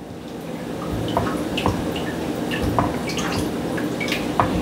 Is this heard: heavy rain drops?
no